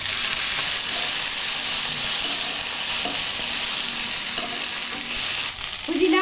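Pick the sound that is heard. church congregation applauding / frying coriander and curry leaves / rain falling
frying coriander and curry leaves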